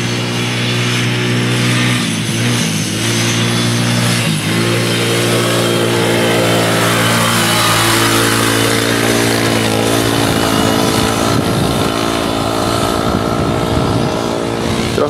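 Quad bike engine at a junior cross track, revving loud and close with repeated throttle blips and dips, then a sustained high buzzing run as it pulls away, no voices.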